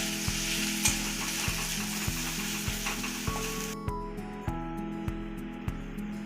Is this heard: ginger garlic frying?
yes